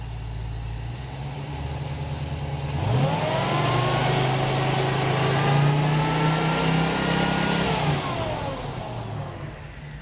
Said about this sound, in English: had my buddy rev the engine up a little bit